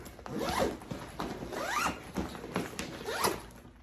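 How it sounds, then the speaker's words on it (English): Tortuga Outbreaker travel backpack being zipped up, with three or four quick rising zipper pulls and rustling fabric handling in between, close and fairly quiet. "Zip this up so that way I can show you how you wear it."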